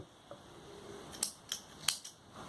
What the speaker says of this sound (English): snip off this yarn